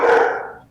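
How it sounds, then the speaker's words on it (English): A dog gives a single short, loud bark that quickly fades, heard up close in a home. "I apologize for my dogs barking in the background."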